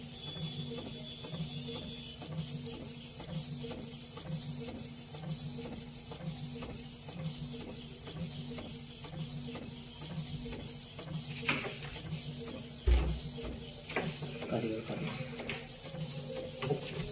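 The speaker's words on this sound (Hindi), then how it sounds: "देखिए परफेक्ट प्रिंट होकर निकल रहा है" A normal home printer printing a bank passbook at a customer service point, running as a steady mechanical whir with rapid rhythmic ticking of the print head and a thump near the end, under a voice.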